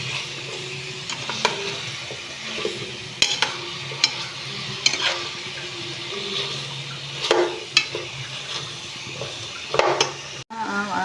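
String beans and chili being stir-fried for Filipino adobong sitaw, with a steady sizzle under repeated sharp scrapes and clinks of a utensil against the pan, no talking.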